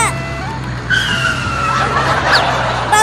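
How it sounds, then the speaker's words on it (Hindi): A cartoon bulldozer lurches about erratically, with engine rumble, skidding squeals and rising whistle-like tones layered over a steady low drone. "अरे नया बाबू तू ये बुलडोजर कैसे चला रहा है?"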